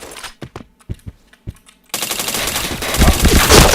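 Counter-Strike gunfire: a few sharp separate shots first, then a dense, loud, continuous burst of rapid fire that keeps building to the end.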